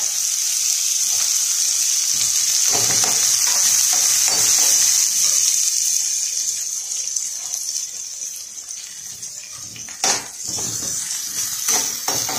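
Onion and curry leaves sauté in hot oil for poha upma, making a loud, continuous close-up hiss with occasional stirring clatter and a sharp knock near the end.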